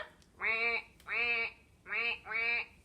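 Four nasal, buzzy quacks in two pairs, loud and close, each about a third of a second long with short gaps. The voice may be imitating a duck.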